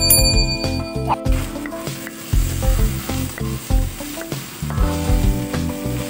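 Canned tuna sautés in a pan for tofu tuna sisig, cooking until the leftover liquid boils off. A continuous close sizzle and hiss runs throughout, with tonal background sounds layered over it.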